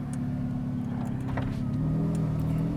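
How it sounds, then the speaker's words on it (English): Ferrari 488 Pista engine running while driving with the windows partly down, a steady, loud mid-pitched drone with a slight rise in revs toward the end, and no talking. "We're gonna put the windows down a little bit just so you can hear the car."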